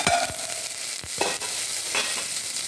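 A spoon stirs food frying in a pan, scraping in quick, close strokes over a steady sizzle. The strokes come at uneven intervals, and no one speaks.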